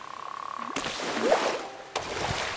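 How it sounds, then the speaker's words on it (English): A frog croaks in the farming video game Fae Farm, a short run of rapid pulsing croaks followed by two sharp clicks and a soft bubbly call, heard alone and fairly close. "Ooh, frog."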